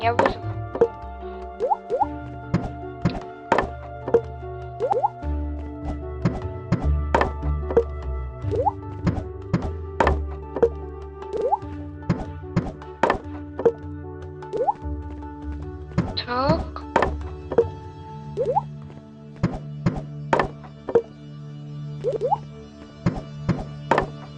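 Wood chopping in the Minecraft video game comes as repeated blocky thunks in quick, irregular bursts throughout, while a person talks over the game sounds.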